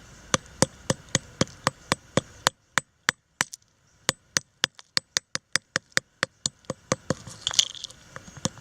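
Rapid, evenly spaced metallic taps of a small hammer chipping crust off a creekbed-recovered Civil War artillery shell, dozens of sharp strikes with a brief pause, then continuing over faint background noise.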